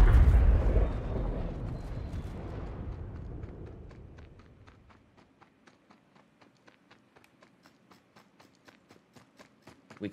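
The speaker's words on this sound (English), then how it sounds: "We can kind of look at the explosion without looking at the explosion like that" A ship self-destructs in the space game Star Citizen, a loud close roaring blast that decays over several seconds into silence, followed by a series of faint, evenly spaced ticking clicks.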